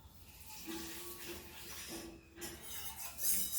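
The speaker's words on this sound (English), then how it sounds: "we'll add 1 cup of water" A cup of water pours into a pot of Goan chicken bafat curry in a home kitchen, a faint splashing hiss over a few seconds with a brief clink near the end.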